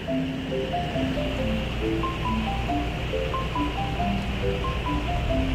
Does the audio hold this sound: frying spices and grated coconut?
no